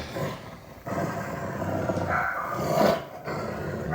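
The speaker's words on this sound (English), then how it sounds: "Looks like the dog is growling at him." Dog on a bed growls low and steadily, close and fairly loud, with brief pauses between rumbles and no talk over it.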